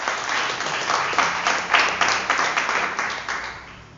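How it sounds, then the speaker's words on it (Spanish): A church congregation bursts into loud applause during a sermon, a thick wash of many hands clapping together, close and sustained, swelling briefly in the middle before tapering off. "denle un aplauso al Señor"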